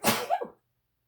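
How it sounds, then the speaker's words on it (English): A single close, loud human sneeze, a sharp explosive burst with a short trailing breath, then silence. "first of all, sneeze"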